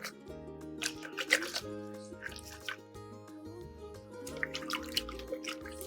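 Lemonade made with sparkling water and honey drips and trickles over ice with faint liquid splashes and plops, quiet against a steady background hum with music underneath.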